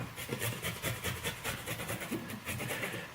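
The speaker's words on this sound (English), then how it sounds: "And then what you want to do with your ginger is you want to grate it." Fresh ginger is rubbed against the fine teeth of a grater in quick, steady rasping strokes, close up and fairly loud, with no talking.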